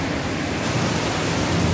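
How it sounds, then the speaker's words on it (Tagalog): Heavy rain pouring down outdoors during a storm with lightning, a dense, loud, steady hiss and roar close by, unbroken and with no voices. "Napakalakas talaga ng ulan"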